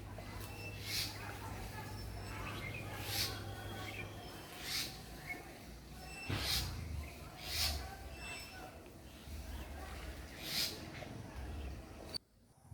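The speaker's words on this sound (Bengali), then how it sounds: "পাখির ডাক শুনতে থাকুন আপনারা" Repeated bird calls ring out at intervals over steady background hum, several sharp chirps spaced a second or two apart, no voices.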